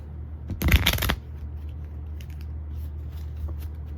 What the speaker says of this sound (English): Shuffle the cards real quick.